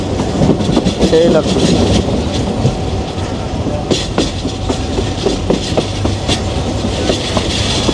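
The Mohonganj Express passenger train, travelling from Dhaka to Mohonganj, rumbles along with rhythmic wheel clatter, heard from on board and continuous throughout, while someone talks briefly over it.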